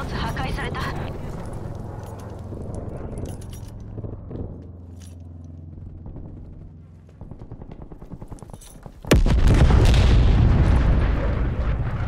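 An artillery strike lands in Call of Duty: Black Ops Cold War, a sudden heavy barrage of booming impacts and rattling gunfire that bursts in loud after quieter game sounds and continues near and dense to the end.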